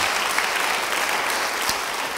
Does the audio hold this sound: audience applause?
yes